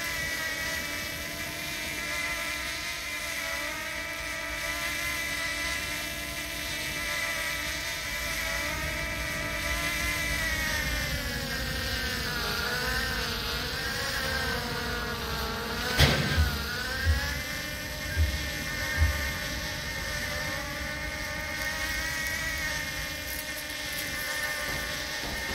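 A drone flies in CS:GO Danger Zone with a continuous buzzing, whirring rotor drone that rises and falls in pitch as it moves and stays close and steady throughout, broken by a few brief thumps near the end.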